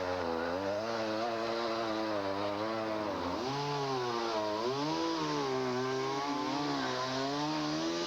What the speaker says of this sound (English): Laurel, I have to use a chainsaw to clean up these large limbs in the back